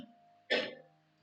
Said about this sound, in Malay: Ibu batuk.